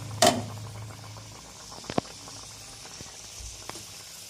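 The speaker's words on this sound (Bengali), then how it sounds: "আমাদের তেলটা এদিকে গরম হয়ে গেছে এবার আমরা পিঠেটা দিয়ে দেবো" Rice flour pitha batter drops into hot oil, giving a sudden loud sizzle burst followed by steady soft bubbling and crackling of frying oil.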